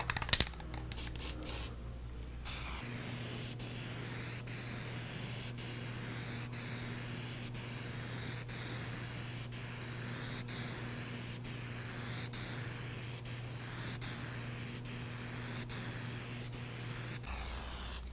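Plasti Dip sprays from an aerosol can nozzle as a second coat goes on, a steady close hiss sustained for about fifteen seconds after a few short bursts at the start.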